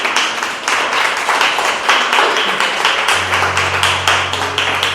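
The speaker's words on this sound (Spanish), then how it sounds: "Dale un aplauso al Señor por los que se bautizaron." A church congregation claps in steady rhythm after a baptism service, loud and close, with quick regular hand claps running throughout and a low hum joining partway through; no speech.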